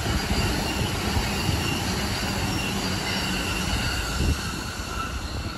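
A train passing close at a road-rail crossing in Japan, with loud, continuous rolling rumble and wheel squeal from the rail cars sustained throughout, and no speech.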